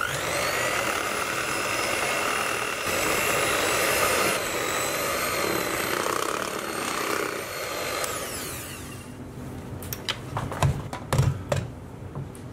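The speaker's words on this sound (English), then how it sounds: "And just on a low speed, we're going to mix this together." An electric mixer on low speed blends sifted plain flour into vanilla cake batter, giving a steady whirring motor whine with faint tonal hum. It winds down near the end, followed by a few sharp knocks and clatters.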